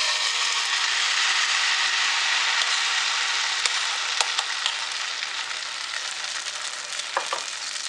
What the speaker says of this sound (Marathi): पॅनमध्ये तेल छान गरम झालेलं आहे. त्याच्यामध्ये आपण हे आंबोळीचं मिश्रण ओतणार आहोत.